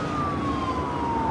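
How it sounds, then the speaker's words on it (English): An ambulance siren wails on the coast at Gulfport, Mississippi, with a single drawn-out tone sliding slowly downward. Steady road and wind noise lies underneath it. "we got an ambulance here on the coast"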